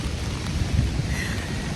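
Thunder rumbles low and steady under the hiss of rain during a rainstorm, a brief dense wash of sound with no voices.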